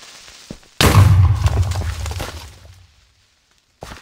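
A Minecraft explosion, likely a detonating creeper, bursts in as one sudden loud boom with a rumbling tail that fades over about two seconds, followed by a brief sharp knock near the end.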